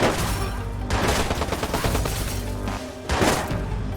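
Gunfire rattles through a shootout in an open-world hacker action game. Bursts of rapid automatic shots crackle, with sharper blasts near the start and again around the three-second mark. The firing is loud and close.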